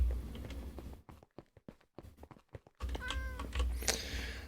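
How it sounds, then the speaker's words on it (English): A Minecraft cat meows repeatedly and loudly up close, with a cluster of short mews in the middle and longer drawn-out cries at the end, set against low background rumble. "This cat is making too much noise."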